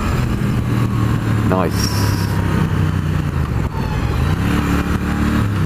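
Triumph Thruxton R motorcycle from 2016 with a steady engine note running loudly throughout, a rising rev swelling near the end, with a brief spoken word over it.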